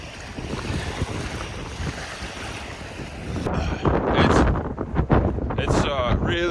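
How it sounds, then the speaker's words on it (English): Strong wind by the Missouri River in South Dakota buffets the microphone in gusts that grow rougher and louder halfway through, with a voice briefly heard under the roar. "It's really windy"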